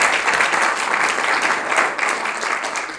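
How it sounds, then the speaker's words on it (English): A convocation ceremony audience gives a sustained round of applause, dense clapping from many hands filling the hall steadily from start to finish. "I want all of you to give a big round of applause to your parents, to your faculty members,"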